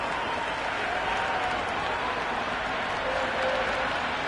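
Stadium crowd at a T20 cricket match applauding and cheering in a steady, dense roar that holds at a constant level throughout.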